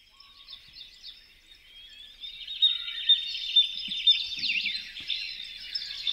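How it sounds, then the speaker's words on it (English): Birds sing on a summer evening, a near continuous stream of high, fast warbling and chirping notes that grows louder midway, alone against a quiet background. "Here is the sound of birds."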